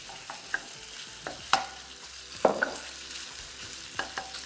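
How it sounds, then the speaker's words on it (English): Beef stir-fried in hot oil in a wok, a soft continuous sizzle broken by sharp scraping stirs and occasional spits and pops, fairly close and with no talking. "be careful because this will splash and it will sizzle"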